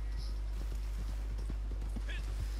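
Horse hooves clip-clopping in Red Dead Redemption 2, a steady rapid trot of muted hoof falls over a constant low hum, with occasional other game noises.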